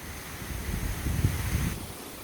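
Wind blows and gusts steadily outdoors ahead of an approaching hurricane, a rushing roar that swells and rumbles against the microphone.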